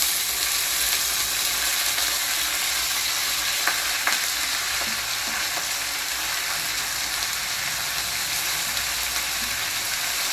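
Washed drumstick leaves hitting a pan with browned onions, giving a steady, close sizzle of frying with faint scraping stir clicks throughout, no voices.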